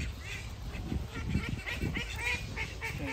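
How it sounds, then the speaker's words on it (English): A flock of geese and ducks at an open-air living museum in County Durham, with repeated quacks and honks close by, overlapping in a steady chorus. "Look at all these geese and ducks."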